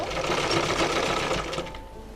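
A sewing machine stitches a child's long gown frock, its motor running in a steady, close, continuous whir that eases off slightly near the end.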